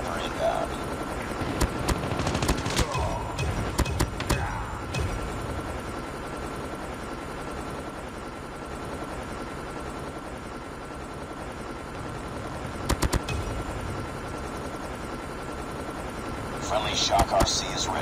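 Bursts of gunfire from a stealth chopper in Call of Duty Mobile on the Hackney Yard map, with scattered sharp shots around a steady game soundscape, while voiced game callouts are heard.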